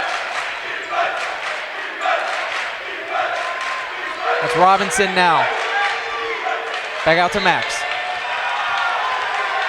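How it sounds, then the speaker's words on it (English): Loud student-section crowd chanting and cheering at a girls' district final basketball game, a steady roar filling the gym under a commentator's play-by-play, with sneaker squeaks now and then. "Loud crowd in the student section from the Dragons."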